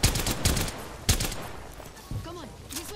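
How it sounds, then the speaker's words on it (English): Gunfire in the Apex Legends video game, several loud sharp shots at the start and around the one-second mark, followed by fainter distant firing, with a voice speaking over parts of it. "I am taking fire."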